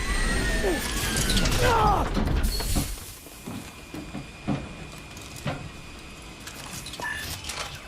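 A heavy blast door mechanism grinds and clanks shut in a futuristic military shooter, loud at first, then fading into scattered mechanical knocks and low rumble amid battle ambience.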